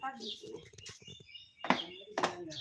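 A pet parakeet vocalizing close up, a mix of chattery squawks and sharp calls with two loud bursts near the end, with a person's voice mixed in.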